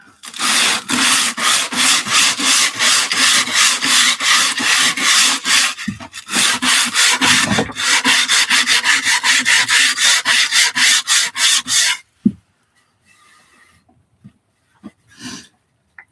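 Rapid back-and-forth strokes of sandpaper rasp against wood by hand, close and loud in a steady rhythm, then stop, leaving a few faint knocks.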